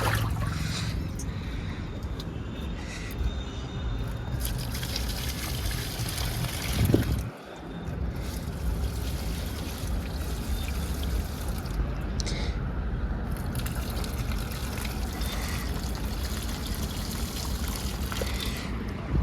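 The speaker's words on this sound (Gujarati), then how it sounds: "આ પાણી આપણે આ બધા રોપણ નાખવાનું છે" Water poured from a tank onto freshly planted saplings at a Hanuman temple, a steady close splashing trickle throughout with a brief thump midway.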